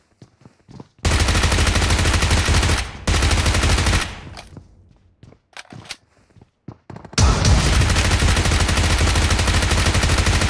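Bursts of automatic gunfire sound in a PUBG Mobile match, in loud, sustained volleys broken by short gaps and a few single shots, with no talking.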